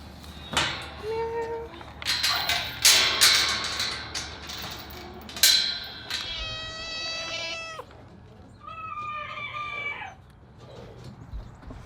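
A cat meows several times nearby, with rustling and clatter around it, alongside crowing-like calls and a voice briefly in the background.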